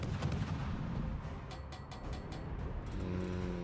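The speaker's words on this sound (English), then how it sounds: "those shots were relatively close, though" Naval gunfire from a video game, heavy boom-like shots landing near a torpedo boat, with rumbling impacts and splashes at a moderate distance, followed by a low droning tone, no talking.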